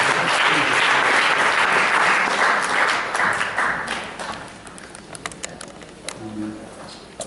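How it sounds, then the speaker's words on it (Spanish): Audience clapping loudly in a lecture hall to welcome a speaker onto the stage, steady dense applause that gradually fades over several seconds, with a few scattered claps near the end. "Recibamos con fuertes aplausos al doctor Oscar Varela."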